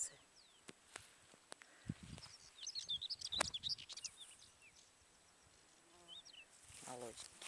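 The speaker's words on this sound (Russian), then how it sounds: "Птицы." Small birds chirp in a quiet forest with young pines, several brief high calls scattered over soft rustling and footsteps, fairly faint and distant.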